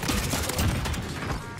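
Gunfire rattles in rapid bursts during a Warzone zombie-mode match, dense and continuous for a moment, loud and close without any talk over it.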